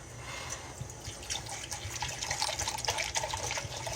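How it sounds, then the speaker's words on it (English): Water from a tap runs into a 2-cup measuring cup in a kitchen while pickled beets are being prepared, a faint, steady splashing flow that swells toward the end with no talk. "We want 2 cups of water"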